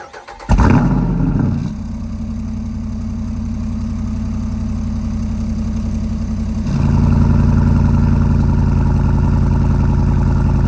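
A Jeep Wrangler Rubicon 392 V8 engine cranks and fires up with a burst, then settles into a deep, throaty, rumbling idle through a loud exhaust that swells louder partway through. The sound is loud and close.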